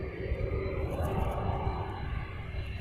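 Airbus A380 airliner moving at an airport in Hawaii, a steady broad jet engine roar with a faint whine, distant and continuous throughout.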